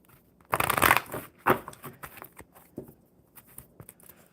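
Playing cards shuffled by hand at a table during a casual live chat session, giving a loud riffling burst followed by softer scattered card flicks and taps, close and alone.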